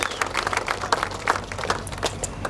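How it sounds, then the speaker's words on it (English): Applause from a crowd at a Bassmaster Southern Open bass fishing weigh-in on Lake Norman as angler David Williams leaves the stage, steady scattered clapping throughout. "Give him a big round of applause as he exits the stage."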